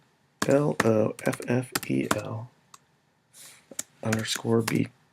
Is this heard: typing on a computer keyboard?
yes